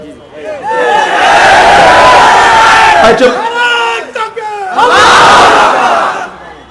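A large crowd chants slogans in unison at an outdoor religious gathering in Narail, loud rhythmic roaring bursts with a brief dip in the middle before the chant swells again, then fades.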